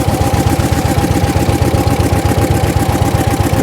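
A 1904 De Dion Bouton veteran car's engine runs with revs held up, a loud close rapid pulsing chug beating in a steady, even rhythm.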